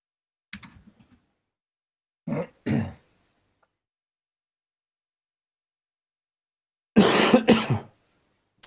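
Coughs muffled into a thick woolly dressing gown come in three short bursts, the last a longer, louder fit near the end, separated by stretches of silence.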